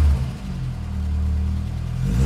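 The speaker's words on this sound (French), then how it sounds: "même si j'accélère franchement maintenant" A Renault Clio 16S engine with a failed coolant temperature sensor revs steadily under firm acceleration. The loud, close rumble holds for about two seconds with no talk over it.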